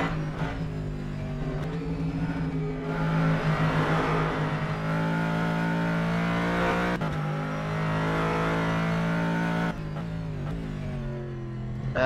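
A Callaway Corvette C7 race car at Sebring in the rFactor 2 racing game roars continuously, its engine note rising and falling through gear changes and turns, loud and steady throughout.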